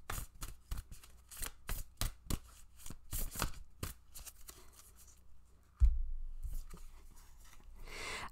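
Oracle cards from a Hidden Worlds deck are shuffled by hand in a quick, uneven run of crisp flicks and snaps, close and fairly quiet, ending in a soft rustle as a card is pulled.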